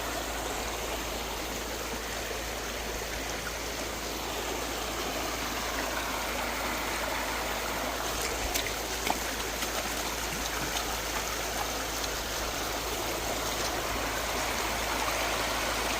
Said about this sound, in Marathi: पाणी बघा किती वाहतंय वड्याला